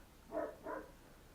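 Dogs bark twice in quick succession somewhere off in another room, muffled and moderately faint, with quiet room tone around the barks and no speech.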